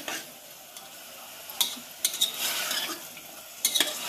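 Garlic sizzles steadily in a hot pan, with a few sharp clinks and scrapes of a utensil stirring against the metal.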